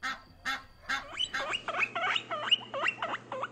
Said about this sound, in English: Baby guinea pig.